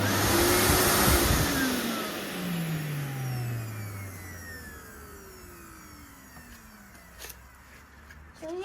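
A 2005 Numatic Henry HVR200-22 vacuum cleaner winding down from high power, its loud motor whine falling steadily in pitch and fading over several seconds, close up with a few small clicks near the end.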